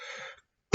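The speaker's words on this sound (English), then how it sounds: "I seriously am not coughing until I get on this video call, and then I start coughing" A man gives a single short cough or throat clear at the very end, abrupt and close, after a moment of near silence.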